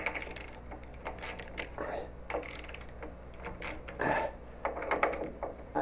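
Front shock absorber bracket bolts on a Triumph TR-series sports car being slackened, rapid ratchet clicks and metallic taps in irregular bursts, close and fairly faint.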